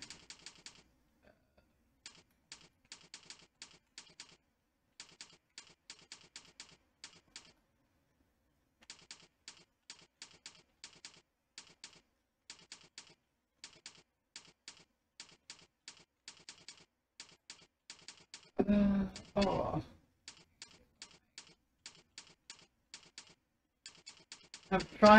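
Bursts of computer keyboard typing during a typing test, rapid clicking keystrokes in irregular runs with short pauses, close and fairly quiet, interrupted once by a brief loud voice.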